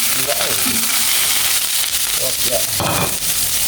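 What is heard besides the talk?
onions frying in a pan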